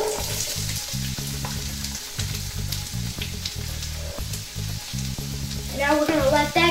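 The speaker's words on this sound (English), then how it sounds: "now we added some sesame oil and some coconut oil, so now we're going to add 1 medium onion" Onion frying in sesame and coconut oil for Cajun shrimp fried rice. A steady close sizzle runs throughout, with a low regular pulsing beneath it and brighter crackling toward the end.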